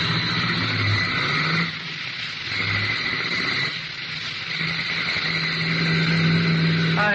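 A car pulls away and accelerates as a sound effect in an old-time radio crime drama, its engine note rising steadily and staying close and prominent from start to finish.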